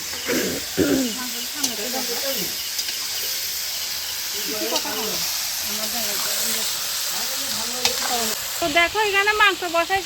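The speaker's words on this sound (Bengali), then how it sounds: "এখন মানে মুরগির মাংস রান্না করতেছি" Chicken meat cooks in a pan with a steady hiss and sizzle, while someone talks over it.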